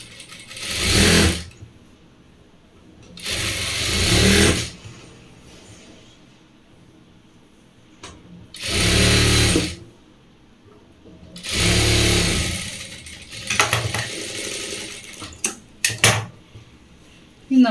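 Sewing machine stitching a pillow cover, four bursts of rapid mechanical whirring and needle clatter, each one to two seconds long, separated by quiet pauses with light handling clicks and rustles.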